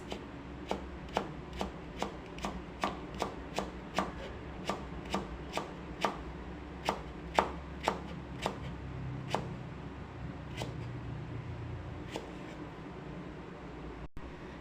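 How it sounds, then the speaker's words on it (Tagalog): Carrots being chopped with a knife on a board, a fairly quick run of about twenty crisp, evenly spaced close taps that slow and thin out toward the end over a faint background hum. "Maghihiwa na ako ng carrots."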